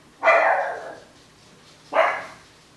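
Two loud, close dog barks separated by about a second and a half of quiet.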